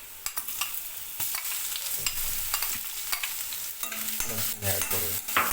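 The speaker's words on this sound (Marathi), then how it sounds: "तर आपला कांदा असा थोडा ब्राऊन झाला आहे, तर आपण ह्याच्यामध्ये लसूण ॲड करूया." Garlic is tossed into browned onion frying in a pan for a katla fish curry. A soft, steady sizzle runs beneath intermittent spoon scrapes and knocks, close but fairly quiet, with no voices.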